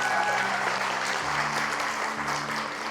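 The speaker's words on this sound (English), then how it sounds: "Let's give a huge round of applause for him" An audience at a grand inauguration event gives a guest a big round of applause: dense, continuous clapping over a low sustained musical hum.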